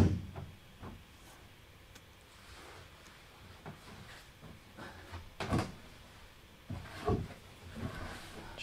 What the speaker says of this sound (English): we're going to drop all the drawers in